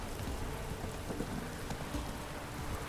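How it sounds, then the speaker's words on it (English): Heavy rain pours steadily in a thunderstorm in The Witcher 3 video game, a dense continuous hiss with no pauses or voices. "We're all just wearing lots of metal in a thunderstorm."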